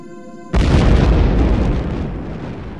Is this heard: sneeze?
no